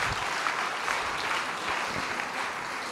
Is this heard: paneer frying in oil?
no